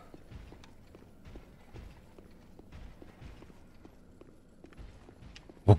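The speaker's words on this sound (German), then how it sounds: "Ich hab den da unten rennen hören, den anderen." Steady running footsteps of an enemy in Dark Souls 3, a regular thudding rhythm of heavy steps heard at moderate distance, ending with a sudden loud impact.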